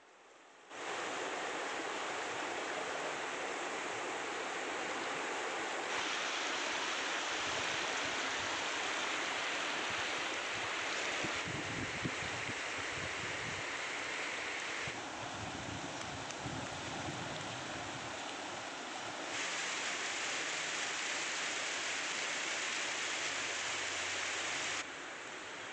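A river running high, its current threatening campus buildings at STAIN Madina, makes a steady, loud broadband rush of flowing water that carries on unbroken for the whole stretch with no voices.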